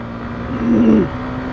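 A motorcycle ridden fast on a road gives a steady close engine drone that swells briefly in pitch and loudness midway, then settles back, with no voices.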